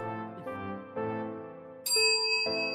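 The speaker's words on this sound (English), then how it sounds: "Did you just bell me? Did you really just ding me?" Several bell-like electronic dings sound in sequence during an Overwatch stream, bright sustained tones stepping up in pitch, the last one loudest and ringing on.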